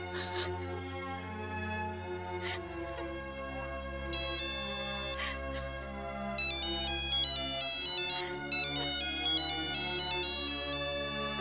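A phone ringtone plays a bright, repeating electronic melody that keeps going, loud and clear over a steady low background tone, with no voices.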